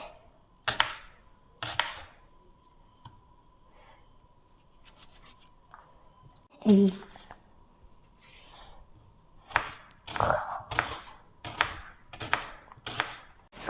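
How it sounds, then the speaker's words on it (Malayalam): Onions sliced with a knife while making Kerala fish curry: sparse, quiet, separate cuts with a few denser bursts of chopping toward the end. "ഇനി ഉള്ളി മുറിക്കാം"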